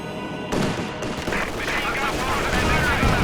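Artillery barrage in Company of Heroes 2, a World War II strategy game, with a burst of explosive booms and crackling gunfire that builds into a dense, sustained rumble of shelling, heard alone.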